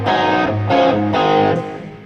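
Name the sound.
electric guitar through TC Mojo distortion pedal and Marshall amp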